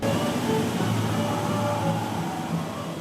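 A continuous rumbling roar of the VelociCoaster roller coaster train running on track, with rattling and faint squeals, loud and steady throughout.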